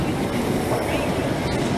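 A Class 321 electric multiple unit on the London Liverpool Street to Southend Victoria line passes close by, its steady loud rumble and rolling wheel noise on the tracks filling the whole stretch without a break.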